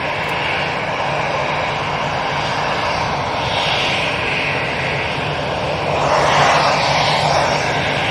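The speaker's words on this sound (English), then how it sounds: "we'll get this EasyJet going out" An EasyJet airliner taking off from Manchester Airport, its jet engines a steady broad roar at a distance that swells slightly louder toward the end.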